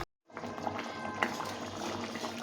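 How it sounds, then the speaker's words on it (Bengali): Fish curry broth with pumpkin and fish head at a rolling boil in a pot, a steady dense bubbling and sizzling close by that starts after a brief silence and continues without talk. "ঝোলটা ফুটে গেছে, এখন আমি এই মাছগুলো ভেজে রেখেছিলাম, মাছগুলো দিয়ে দিলাম, দিয়ে ভালো করে ফুটিয়ে নিতে হবে"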